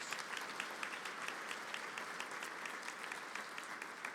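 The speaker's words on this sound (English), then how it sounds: "Give them a round of applause." Steady applause from the audience honoring parents at a Class of 2022 commencement ceremony, a dense, even patter of many hands that holds for a few seconds at moderate distance.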